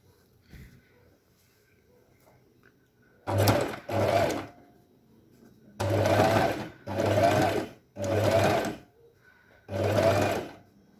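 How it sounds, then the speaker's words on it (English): A sewing machine runs in five short bursts, each a rapid mechanical chatter a second or so long, with quiet pauses between. "line up the edge with that little gap in the foot of your sewing machine"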